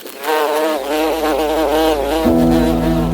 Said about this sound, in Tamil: ஒரு காட்டில் ஒரு தேனீ வசித்து வந்தது.